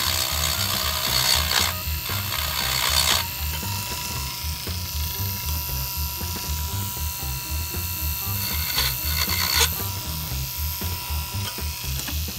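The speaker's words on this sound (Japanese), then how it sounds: "大まかなところはこのリューターで仕上げて" Handheld rotary tool grinding louvers into a Hakosuka Skyline GT-R two-door scale model car, with a steady close motor whine and a rapid rattling buzz as the bit bites, in a few brief louder surges.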